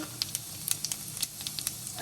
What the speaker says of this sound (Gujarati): તેલ થઈ ગયું છે, એમાં આપણે 1 ચમચી જેટલું જીરું ઉમેરી દઈએ